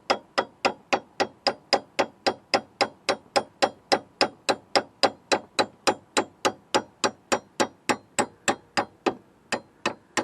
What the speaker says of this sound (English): you may have to do a little friendly neighborhood hammer tapping to the bolt